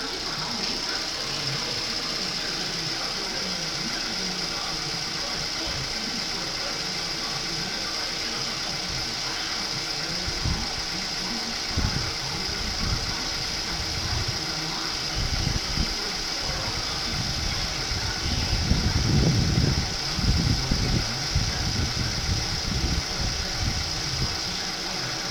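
A 2006 Mazda 6 engine runs on a test at an auto wrecking yard, a steady mechanical drone with faint ticking that grows a little louder and rougher toward the end, with no talk over it.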